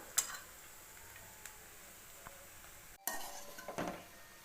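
A spoon stirs and scrapes through a potato stir-fry mixed with freshly grated coconut, making a few sparse, soft scrapes and light ticks in the pan. Louder, busier scraping comes near the end, with no talking.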